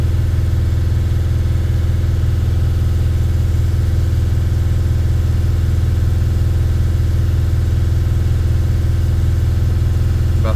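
Mercedes T1N Sprinter engine held at a steady 2500 RPM, a loud, close and unchanging drone with a strong low hum that runs throughout without any voices.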